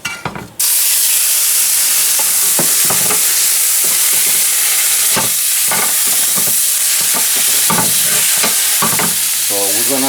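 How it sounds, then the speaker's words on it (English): Red wine is poured into a hot pan, bursting into a loud, close sizzle that keeps hissing and crackling steadily, with scraping stirs throughout and no talking. "Now we're gonna deglaze it with 2 ounces of red wine."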